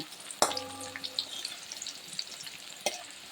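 Pieces of bitter gourd (kakrol) frying in oil in a pan, a soft crackling sizzle with scattered pops, a scrape and a clink of a utensil near the start and another near the end.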